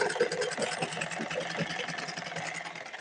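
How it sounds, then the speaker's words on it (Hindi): A sewing machine runs steadily while stitching two layers of blouse fabric together, a continuous mechanical whir with a fast rhythmic needle patter, moderately close and without pause. "दोनों कपड़े को बराबर करके सिलाई लगाएंगे"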